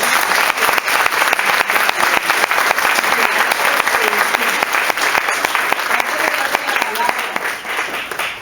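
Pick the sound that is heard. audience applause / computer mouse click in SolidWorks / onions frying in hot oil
audience applause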